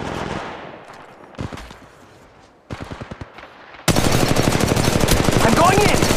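Gunfire in the video game Apex Legends Mobile, scattered shots and short bursts at first, then a sustained loud close stream of automatic fire.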